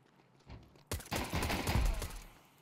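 A burst of gunfire in Counter-Strike 2 during a Wingman match: a few faint shots first, then a loud, dense volley of rapid shots that fades out at the end.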